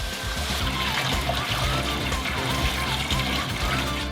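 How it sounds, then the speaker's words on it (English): Excess water drains off a large batch of potatoes boiled for seven hours, a steady trickling splash heard under background music. "So we drain the excess water."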